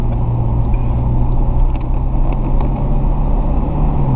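A car engine at close range, a loud, steady low hum with a faint mechanical rattle on top that dips briefly partway through.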